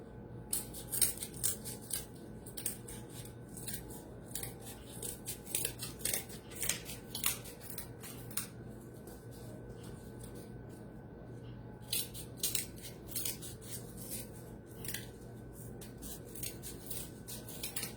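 Scissors snip through cardboard while a Picasso-inspired portrait is trimmed to fit, giving close, crisp cuts in bursts of quick repeated snips with short pauses between runs.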